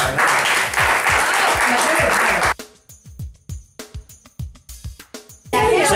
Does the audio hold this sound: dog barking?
no